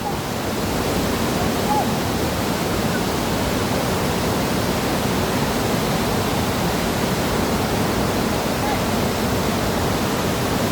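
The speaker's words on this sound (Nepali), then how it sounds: "बाढी आएको छ कि यति बेला" A flooded river rushing in spate, a dense, loud, continuous roar of churning water heard close up, steady from start to finish.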